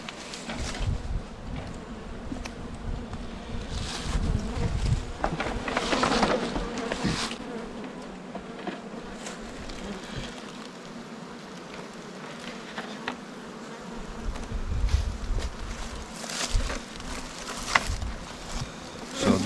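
Honey bees buzz densely around an open hive on a hot afternoon near 87 degrees, a continuous drone with individual bees swelling louder as they fly close past.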